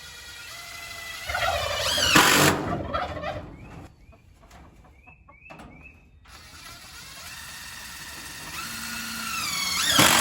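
A turkey on a homestead gobbles loudly nearby in several rattling bursts, with a power drill whirring briefly between calls and no talk.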